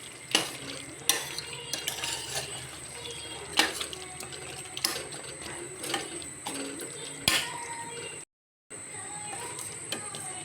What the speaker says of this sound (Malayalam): പൊടിയും മുളക് പൊടിയും ചേർത്തിട്ട് നല്ലതുപോലെ വെള്ളം വീത്താതെ നല്ലപോലെ വറുത്തി കൊടുക്കണം.